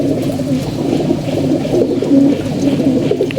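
Soft, low pigeon cooing murmurs on steadily throughout, several birds overlapping in a continuous warbling hum with no talking.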